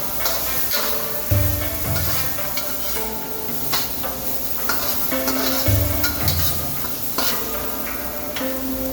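Broccoli tossed into a wok of fried rice over high heat sizzles steadily, with repeated clanks and scrapes of stirring close by and a few louder knocks.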